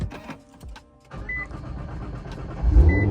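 A Nissan 350Z engine cranks and catches, the motor rising to a loud, close rumble in the final second after a quieter stretch of mechanical whirring.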